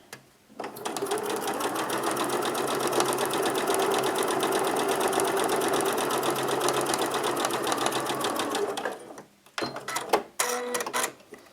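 A sewing machine stitches a baby quilt at a 2.4 stitch length, running loud and steady for about eight seconds before stopping, followed by a few short clicks and bursts of handling.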